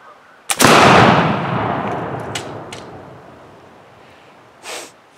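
A smoothbore gun fires a load of shot at a broom outdoors, one loud close blast with a long rolling decay, followed a few seconds later by a fainter short rustle or thud.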